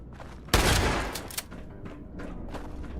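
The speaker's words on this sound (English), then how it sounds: "This is a good weapon too, it's just loud." Fallout 76 weapon fires loudly in a video game. A sharp, heavy burst comes first, then a few quicker, fainter shots trail off in short bursts.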